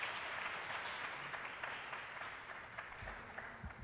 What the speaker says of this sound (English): please a big round of applause for our esteemed guest